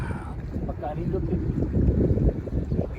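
Wind buffets the microphone on a boat out on the water, a loud, gusty low roar that builds and stays constant, while a person speaks briefly at the start.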